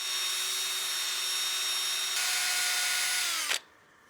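Wooden bowl, partially seasoned, being sanded on a running lathe with 320-grit paper: a steady, loud whining motor hum with a light sanding hiss, then the lathe winds down and stops near the end.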